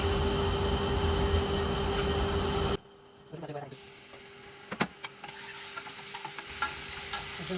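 Onion and garlic fry in oil, starting with a loud, dense hiss of sizzling that cuts off abruptly, then quieter sputtering with sporadic clicks and scrapes of stirring.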